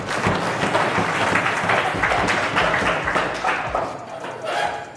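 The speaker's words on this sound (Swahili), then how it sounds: "mpigieni makofi ya kutosha" A crowd gives sustained applause for Dr. Samia Suluhu Hassan at a Tanzanian political gathering, a dense, loud wash of clapping that holds steady and then fades slightly toward the end.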